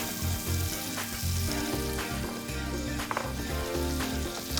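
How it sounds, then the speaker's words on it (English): Onion frying in melted butter in a hot pan on a BBQ grill, a dense continuous sizzle with occasional stirring clicks, close and steady with no talking. "So we're gonna start by melting some butter. We're gonna add to that some onion."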